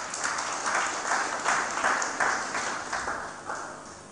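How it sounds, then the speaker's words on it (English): Moderate audience clapping during a live-streamed sermon on fasting, a steady patter of hands with soft rhythmic swells, heard at a distance in a reverberant room. "Are you clapping for the word?"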